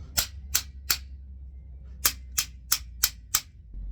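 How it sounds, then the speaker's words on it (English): A Springfield Armory 20-round magazine is smacked hard: three sharp, loud cracks, a pause, then five more in quick succession, each a crisp slap with no talking. "I'm smacking pretty hard. and nothing's happening to this magazine"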